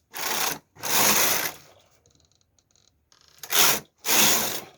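A knitting machine carriage sweeps across the needle bed knitting rows, giving loud, rasping mechanical passes in two pairs separated by a quieter gap with faint clicks.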